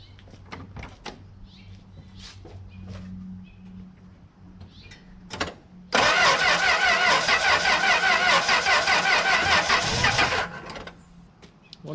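A 1964 Plymouth Belvedere with its carburetor cleaned and fuel in the bowl cranks loudly for several seconds with a rapid rhythmic starter chug, then stops, after quieter clicks and handling noises.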